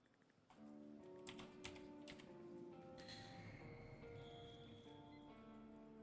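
Quick, light clicking of fingers typing on a computer keyboard, a steady run of keystrokes close by, with a low game hum and tones in the background.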